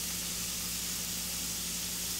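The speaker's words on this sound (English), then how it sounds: "Listen to that sizzle." Large burgers frying in a pan over medium-high heat make a constant, even sizzle. The hiss is close and steady, with no talk.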